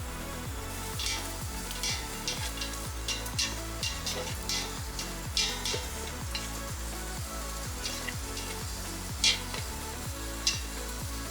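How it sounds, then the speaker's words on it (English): Onions sauteing in cooking oil in a pot give a steady close sizzle throughout, with a faint rhythmic scraping of stirring and occasional brighter crackles and pops. "add the onions and saute until they are lightly browned and fragrant"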